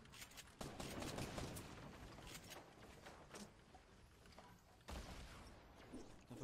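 Faint, dense video game gunfire crackles as a continuous distant fusillade, with a couple of sharper bursts standing out above the steady rattle.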